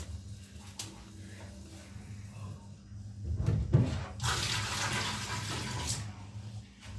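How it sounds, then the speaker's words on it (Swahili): Hot water from a thermos pours over Indomie noodles, a faint watery splash that swells in the middle of the stretch and then runs on as a soft, steady flow. "weka maji moto. Hii ni maji moto guys, kuachemsha"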